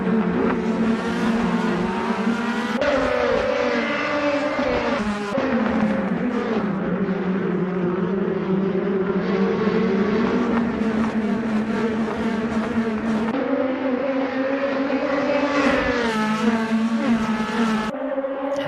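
DTM race cars from the 2018 season at Misano in the Assetto Corsa racing game, loud engines droning and shifting pitch as several cars run in a pack, sustained and close throughout.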